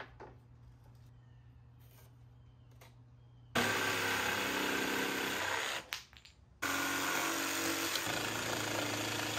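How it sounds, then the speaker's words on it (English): Power tool noise from fastening primed 1x3 pine trim to a bathroom windowsill, broadband bursts that run loud and steady for several seconds, break off briefly, then resume close by with no talking. "transferred it over to a new 1x3 primed pine piece before attaching it to the windowsill using brad nails"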